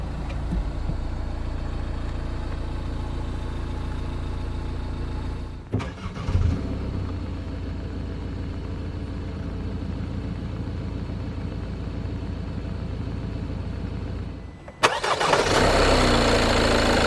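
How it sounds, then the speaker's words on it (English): A 2021 Renault Trafic Business is started with its push-button start, the engine cranking and catching, then settling into a steady mid-pitched idle that carries on loud and close. "Just put your foot on the clutch and hit the button to start."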